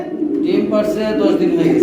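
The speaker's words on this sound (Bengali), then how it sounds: "এখানেও রয়েছে আরেক পেয়ার কবুতর" Pigeons coo steadily in a loft holding a breeding pair with eggs, a continuous low, throaty murmur that fills the whole short stretch at close range.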